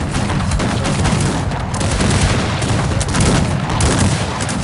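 Cannon and musket volleys in a Cossacks 3 battle roar without a break: dense gunfire and booming cannon shots blend into one loud, steady wall of noise.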